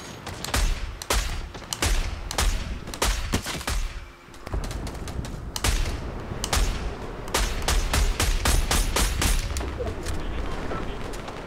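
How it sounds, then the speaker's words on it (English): The new automatic sniper rifle fires in Fortnite at Tilted Towers, with rapid cracking shots in dense bursts over busy battle noise. A voice talks at times beneath the gunfire. "I do want to test out the new sniper rifle a bit more though before this match finishes"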